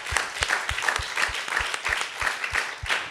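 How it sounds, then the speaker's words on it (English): Audience applause for Trishay at a wrongful conviction summit. Clapping comes with a steady rhythmic beat, as if the crowd claps in unison, at moderate volume with a faint recurring tone above it. "everyone should give a round of applause to Trishay"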